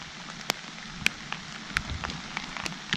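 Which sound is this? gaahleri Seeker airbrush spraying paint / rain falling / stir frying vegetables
rain falling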